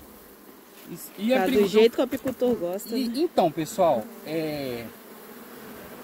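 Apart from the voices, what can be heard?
honey bees buzzing at a hive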